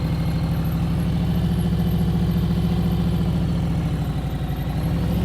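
A motorcycle engine holds steady at low RPM while the rider works the clutch friction zone, making a continuous, even, low-pitched thrum with a fast regular pulse and no talking over it.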